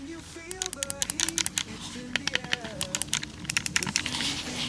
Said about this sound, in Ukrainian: Це такі самі перемикачі, як на мишці, які клікають.